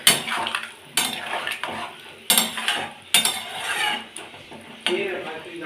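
A metal lid set over a cooking pot of aloo posto brings sharp clanks and clatters, several distinct knocks spread across the stretch, loud and near, with a soft cooking hiss underneath.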